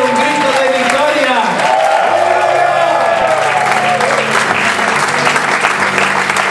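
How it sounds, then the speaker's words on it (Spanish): Loud applause from a church congregation at the close of a service, with shouts and cheering voices mixed in, sustained and dense throughout, with a musical tone running underneath. "Último aplauso fuerte y un grito de victoria"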